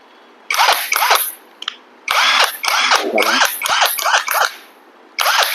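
A Masha electric multipurpose driver whirs in short bursts while loosening bolts, its motor buzz starting and stopping repeatedly with brief gaps of quiet between runs, loud and close.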